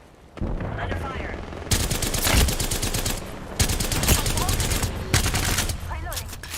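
Gunfire in a video game firefight: repeated rapid automatic bursts and single shots, loud and dense, with a voice briefly heard among the shooting.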